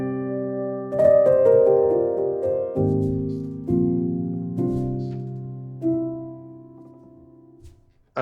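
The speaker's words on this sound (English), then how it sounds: "I used this Mystique algorithm called the Woods, which is an impulse response taken in the woods." Piano notes and chords are struck one after another, each ringing out into a soft, airy reverberation from an impulse-response reverb recorded in the woods, lingering and slowly fading.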